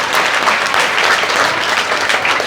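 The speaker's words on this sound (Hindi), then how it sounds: "जोरदार ताली बजा दो और हम पाठशाला के लिए।" Schoolchildren in a Delhi group class applaud loudly, a thick, continuous burst of many small hands clapping close by and filling the whole moment without pause.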